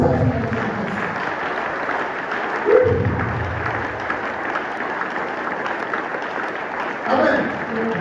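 A church congregation applauds and cheers during a worship service, a steady wash of clapping and crowd noise throughout, swelling in two brief surges, with voices mixed in.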